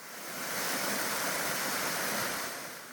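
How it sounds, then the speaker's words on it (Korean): Rushing water roars steadily from a two-tier waterfall over 10 m high in a narrow valley, a dense continuous wash of falling water with no voices, swelling slightly and then easing. "계곡길 끝쪽에 절구 폭포가 있습니다."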